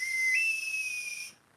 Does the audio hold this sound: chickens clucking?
no